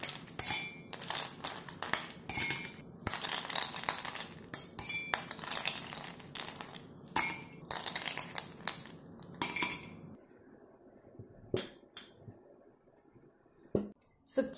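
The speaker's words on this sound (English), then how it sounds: "Add in ice cubes in each of the glasses." Ice cubes drop into drinking glasses for fruit-flavoured lemonade, giving a quick run of bright clinks and clatters, then a few scattered taps as things settle.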